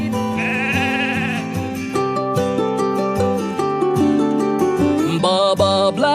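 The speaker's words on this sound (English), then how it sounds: "Baa Baa, black sheep." Sheep bleats sung within an animated nursery rhyme, melodic 'baa' calls over a loud, continuous musical backing with bright instrumental tones throughout.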